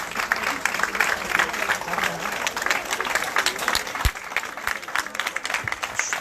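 A crowd gathered in support of hospital caregivers in Bastia claps steadily, a dense outdoor ovation with a few voices and cheers underneath and a couple of sharp knocks near the end.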